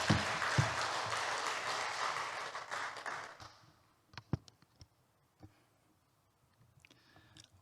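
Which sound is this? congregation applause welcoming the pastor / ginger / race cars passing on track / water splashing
congregation applause welcoming the pastor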